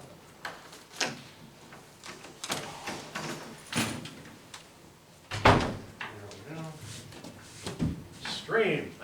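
A door opens and closes in a village board meeting room, giving sharp knocks and thuds scattered among soft handling noises, with a louder bang midway. People talk nearby throughout.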